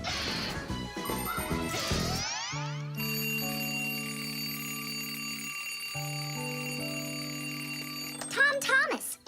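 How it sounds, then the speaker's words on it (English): Shrill, sustained metallic ringing of an alarm clock bell in a cartoon holds for several seconds, ending with a clatter and a brief rattling crash. "Tom Thomas, why is your alarm clock ringing in the middle of the night"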